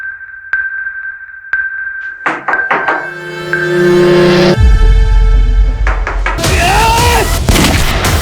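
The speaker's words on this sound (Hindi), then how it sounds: "पुलिस वाले पे गोली चला दी" A gunshot fired at a policeman rings out in a tense crime drama scene: sharp percussive bangs and clattering impacts crowd together, then a loud rumbling burst swells amid dramatic music, with no talking.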